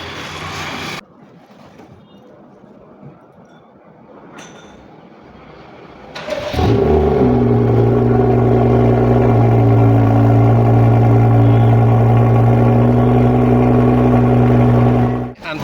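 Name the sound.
BMW F30 cold start with modified exhaust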